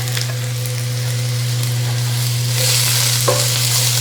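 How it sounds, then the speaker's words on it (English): Chopped onions frying in a pan for vegan Korean japchae give a steady, even sizzle with a low hum beneath and a faint clink of a utensil near the end; close, moderate and without speech. "And then I'm going to put in the onions now."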